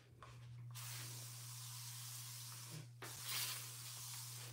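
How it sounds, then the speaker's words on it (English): Air freshener sprayed indoors at home, a long steady hiss of several seconds followed by a second brief burst, moderately faint over a constant low electrical hum. "I feel like this should only be sprayed if somebody comes to the house and you trying to freshen up"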